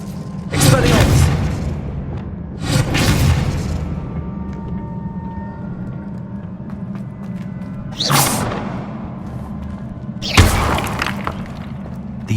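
Expelliarmus disarming spell cast in Hogwarts Legacy, heard as several sharp magical bursts with whooshing, glassy impacts spaced across the stretch over rumbling game ambience, with a voice calling out.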